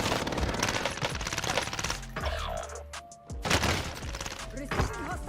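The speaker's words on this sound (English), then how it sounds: "Receiving hostile fire." Automatic gunfire in the video game Warzone, dense rapid bursts with a brief lull midway, loud and close amid game sounds.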